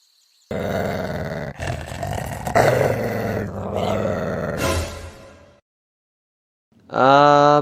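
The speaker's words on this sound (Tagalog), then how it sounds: "Pre, kailan pa nagkaaso si Mart?" An animated cartoon dog growls low and rough for several seconds, rising into snarls, then silence before a louder tonal growl breaks out again.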